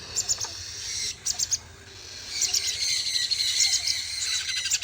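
Sun conure chicks give high, rapid chirping and squeaky calls during hand feeding, in short bursts that grow into a busier chatter, close by with no speech.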